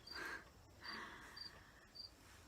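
Crickets chirp outdoors at the Common Ground Country Fair in faint, repeated high trills, a few short bursts spaced apart over quiet background with no talking.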